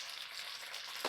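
A quick burst of hot sizzling as red chilli sauce hits oil in a pan while cooking dragon chicken, a crackling hiss that flares briefly near the end.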